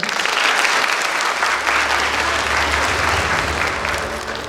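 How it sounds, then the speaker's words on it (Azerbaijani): An award ceremony audience applauds in a loud, dense, sustained round of clapping that fills the hall and eases slightly toward the end, with a faint low hum beneath it. "Alqışlarımızla."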